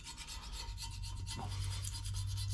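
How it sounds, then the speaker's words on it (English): A small razor blade scraper rasps steadily over an engine head, scraping off primer in a continuous close-up rubbing sound with no talking. "getting in here with the little razor blade scraper"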